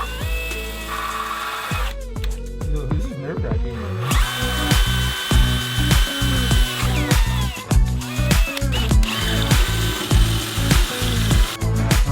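Power drill with a 1.5 inch bit boring a hole through plywood during a camper van build, loud grinding whir in repeated bursts with pauses and rhythmic bit chatter, one brief spoken remark mixed in.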